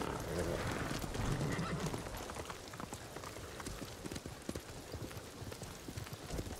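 A horse ridden across open ground in Ghost of Tsushima clops along with rapid hoofbeats and gives a whinny near the start, close and prominent over a soft ambient bed.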